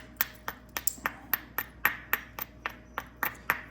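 A hammer stone strikes a piece of hornstone rock during flint knapping, about a dozen sharp, close, clicking knocks in a steady rhythm with brief pauses between blows.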